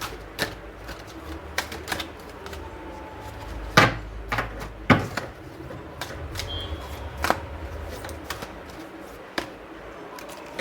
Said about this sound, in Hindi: तब तक मैं शफल करती हूँ